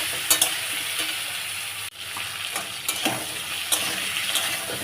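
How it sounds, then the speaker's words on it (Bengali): Potato and crab pieces frying in a pan with turmeric, a continuous sizzle with periodic scraping and clattering strokes as the mixture is stirred; no talking. "আলু আর কাঁকড়া কষা চলছে"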